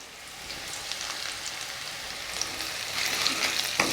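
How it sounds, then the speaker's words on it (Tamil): Onions frying in a pan with dried red chillies and curry leaves, a continuous close crackling sizzle that grows louder and busier toward the end, with occasional light pops. "இப்போ வெங்காயம் வதங்கிட்டு இருக்கையிலேயே நம்ம இதில் 2 காஞ்ச மிளகா போட்டுக்கிறேன்"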